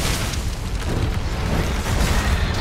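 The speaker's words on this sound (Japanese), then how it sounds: "やべ、爆発、爆発。" Explosions in the video game Monster Hunter World Iceborne during a fight with Uragaan, a dense continuous rumbling boom with bursts throughout, loud and without speech.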